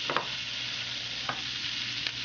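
Zucchini and squash sauté in sesame oil in a hot pan, a steady close sizzle and hiss running throughout, broken by a few brief stirring scrapes and clicks.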